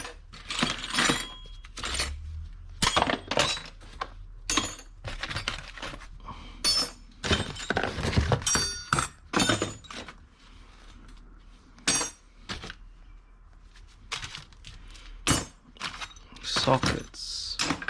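Assorted metal hand tools, sockets and Allen keys clinking and clattering while being rummaged through in irregular bursts of jangling and knocks, close by, with quiet gaps between handfuls.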